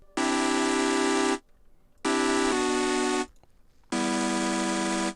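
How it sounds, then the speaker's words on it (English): Three sustained, crackly synth chords from a Vital soundbank chord preset ring out one after another, each held over a second with short gaps between, bright and buzzy with no talking. "There's also a little chord sound down here."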